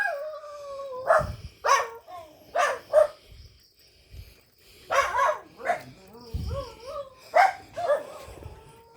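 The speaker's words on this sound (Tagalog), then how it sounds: "Yung aso naming si Green, sumama." A dog on a walk along a path to a repair shop barks in short bursts and whimpers, the yelps and howl-like cries coming fairly close and repeating irregularly between pauses.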